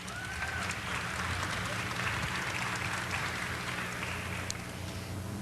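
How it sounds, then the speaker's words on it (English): An audience applauds at a wellness summit held at Los Angeles City Hall, with sustained, even clapping from a crowd, heard at a moderate distance and with no talk over it. "Please give her a round of applause."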